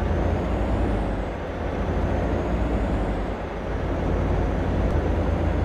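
A heavy truck in Alaskan Truck Simulator rumbles steadily with a broad engine and road roar, loud and continuous, with a faint air brake hiss rising near the end.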